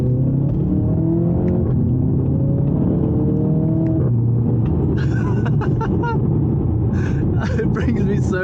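An Audi TT Quattro engine revs hard in dynamic mode and climbs in pitch as it accelerates, loud and close, with someone talking over it.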